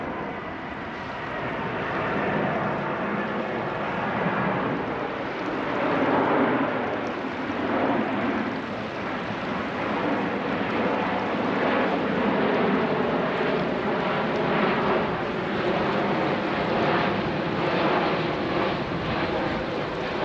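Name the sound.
large cargo jet plane flying past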